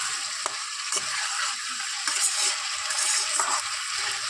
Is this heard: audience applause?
no